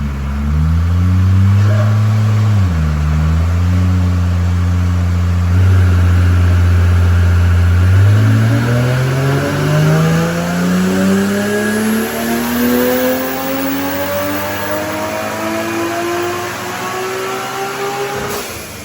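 A 1000HP single-turbo BMW E90 335 with its boost turned up revs hard and loud, the engine note climbing steadily in repeated sweeps close by, with no voices over it.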